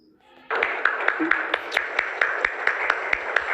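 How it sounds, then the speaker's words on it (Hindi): Audience applause welcoming a guest at an award event, a sudden loud burst of dense clapping with sharper individual claps standing out, holding steady after a brief quiet start. "जोरदार तालियों से उनका स्वागत कीजिए mister Mohit Pandey. Big round of applause."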